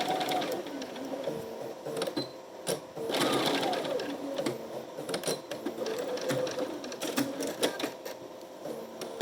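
A sewing machine top stitches a fabric pocket for an advent calendar, running in steady mechanical bursts with brief pauses between stitching runs, close and fairly loud, with no talk over it.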